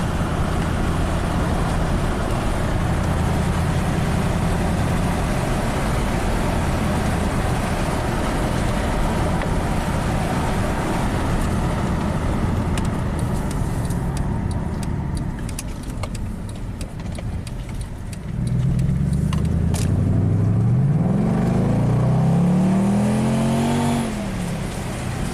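A Mercedes-Benz AMG being driven in comfort mode, with a steady loud engine and road roar heard from inside the cabin and a rising surge of revs near the end as the car accelerates.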